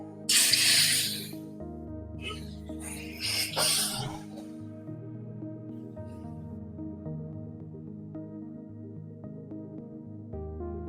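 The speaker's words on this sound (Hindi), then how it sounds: "पैन को गर्म करने के बाद इसमें स्टिक्स रखेंगे, लो फ्लेम पर 20 मिनट के लिए फ्राई करेंगे।" Mutton sticks brushed with olive oil sizzle in a hot pan over a low flame, with loud bursts of spitting hiss early on that settle into a steady, quieter fry. No one speaks.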